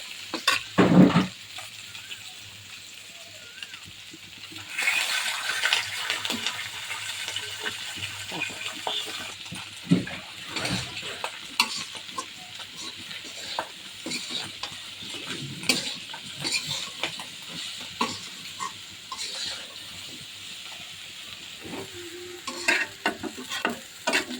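Raw onion and green chilies fry in a hot pan with a soft, constant sizzle, broken by repeated scraping stirs and a few sharp clatters of a utensil against the pan.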